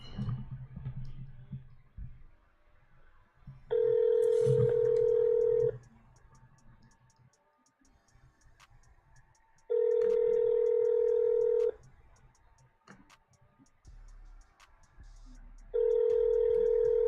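Electronic telephone ringback tones on a call to a GameStop store repeat in steady two-second bursts with pauses between, over faint background hiss and clicks.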